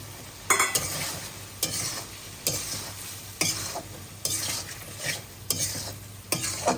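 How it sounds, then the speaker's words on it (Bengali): Meat being added to fried spice paste for potato and meat curry, sizzling steadily in the pan, with several scraping stirs at regular intervals over a continuous frying hiss. "মশলা কষানো হয়ে গেছে, আমি গোস্ত দিয়ে দেবো"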